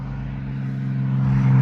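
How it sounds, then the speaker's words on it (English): A car engine droning steadily while driving, a low hum that grows slightly louder toward the end, with no talk over it. "It was the noise of the car."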